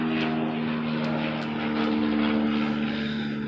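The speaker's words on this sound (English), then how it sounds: "Oh, this is a plane, actually. It's pretty low for a plane." A low-flying propeller plane drones overhead, a steady moderately loud engine hum with a slight swell as it passes, heard outdoors with no talk over it.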